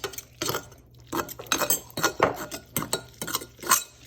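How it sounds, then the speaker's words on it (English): A spoon stirs tuna and mayonnaise in a bowl, with repeated close clinks and scrapes against the bowl in an uneven rhythm, nothing else heard. "So just try mixing that in, Robs"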